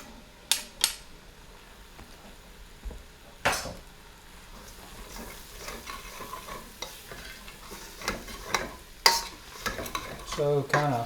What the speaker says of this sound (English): So kind of swirl things around a bit until you can smell the garlic.